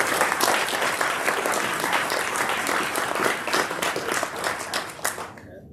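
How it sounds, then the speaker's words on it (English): A town hall audience gives sustained applause for awardees. The dense, loud clapping holds steady and fades out at the very end. "Please give one last round of applause for all of our awardees."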